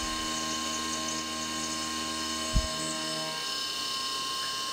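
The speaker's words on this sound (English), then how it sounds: "It's just a 3/16 inch end mill. It's not putting that much force on it." A 3/16 inch end mill cutting an AR15 gas block held in a vise on a fixture plate gives a steady whining, tonal milling drone with one brief low thump midway.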